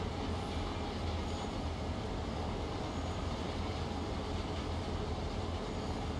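A train running steadily in a train-driving video game, a continuous broad rumble and rolling rail noise at even loudness with no breaks.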